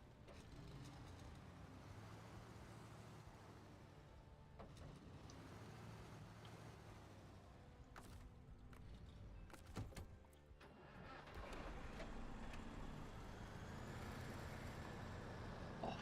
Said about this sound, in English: Actually, let me start the engine.